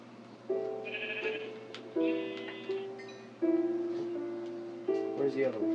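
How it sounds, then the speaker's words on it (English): Sheep in the blocky video game Minecraft bleat repeatedly, four or five short nasal calls spaced about a second apart, clear and close over a quiet background. "There's a sheep."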